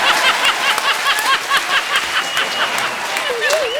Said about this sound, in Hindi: जोरदार ताली हो जाए रूप कुमार के लिए।